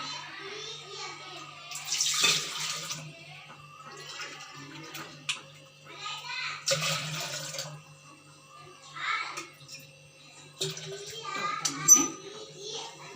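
Water, two cups to one of semolina for soft kesari bath, is poured into a vessel in three separate splashing bursts, with a quiet voice murmuring in between.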